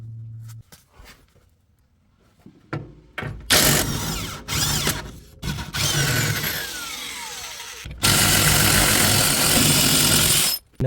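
Ratchet wrench with a 19mm socket working a rear suspension bolt loose on a W124 Mercedes E-class, heard as bursts of rapid mechanical clicking and grinding, fairly close and loud, with short pauses between stretches of turning.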